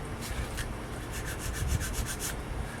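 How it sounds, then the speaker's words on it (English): Sandpaper rubs steadily against the edge of a wooden Native American flute block, a soft continuous scraping with faint rhythmic strokes, close up and quiet, no voices. "I'm going to sand a"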